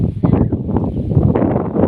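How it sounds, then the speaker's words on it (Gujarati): Strong gusty wind blowing dust outdoors, buffeting the microphone as a loud, continuous low roar with no voices. "ધૂળની ડમરી જ ઉડે છે. બીજું કાંઈ નથી ને પવન હે."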